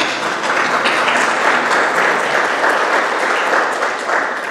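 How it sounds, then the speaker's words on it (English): Sustained applause from a large audience at a school prize-giving, a thick, even wash of clapping that holds loud for several seconds. "could you please give a round of applause to your parents"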